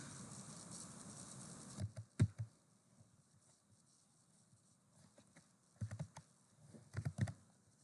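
Keys on a computer keyboard are tapped in short, soft clusters of clicks separated by quiet gaps, with a faint hiss running underneath at first.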